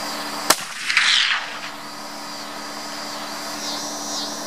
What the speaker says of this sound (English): we'll take a second shot with the Parker. 130 grains of Blackhorn,